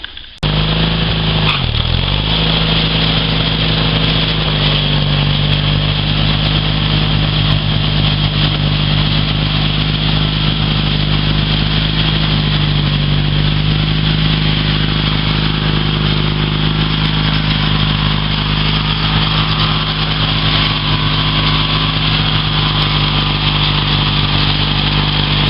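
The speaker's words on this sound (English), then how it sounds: "That's what 18 horsepower and 44 inches of mower deck can do for you." A 22-year-old 18 HP riding lawn mower with a 44-inch deck runs loud and steady for the whole stretch, its engine droning close by without letting up or bogging down.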